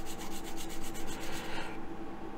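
A fine, very soft file works the edges of a small model ship part for HMS Bounty, giving a quick, even rasping rhythm of short strokes, faint and close, that stops near the end.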